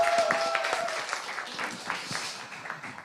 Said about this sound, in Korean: 노준영 집사님, 박수하겠습니다.